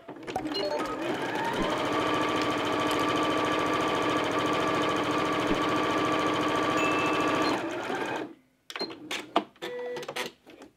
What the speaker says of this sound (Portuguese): eu termino de costurar. Termino de costurar aqui o meu círculo.